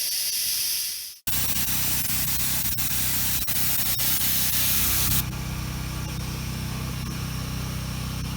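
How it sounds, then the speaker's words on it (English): Spray foam coating is applied to the shell of a small tiny-home build in Panama as a second layer, a loud continuous hissing spray that starts abruptly after a brief pause and runs on steadily, with a machine hum beneath. "So this is the second layer applied with the spray."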